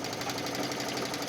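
Sewing machine running a straight stitch through the gathers of a wrap dress, a fast steady mechanical whir with rapid needle clatter, close and moderately quiet.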